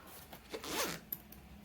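A zipper on the pocket of a crafting travel bag, pulled in one quick close rip that rises and fades, with a small tap of the pull afterward, heard alone and at close range.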